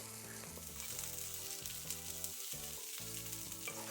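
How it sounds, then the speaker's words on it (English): Tomato paste cooking in a pan, a faint steady sizzle with light stirring knocks and a background musical tone. "Time for a tablespoon of tomato paste, and this also gets cooked for a minute."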